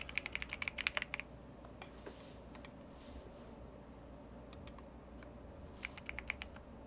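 Quick bursts of keyboard typing during a typing race game, clustered clicks with short pauses between runs, close and fairly quiet over a steady low background hum, with no talking.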